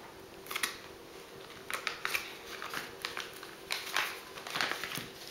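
A block of chocolate cut in half on a board for Greek Easter cookies, heard as a series of faint, irregular crisp knife snaps and scrapes with quiet gaps between them, close by and with no voices.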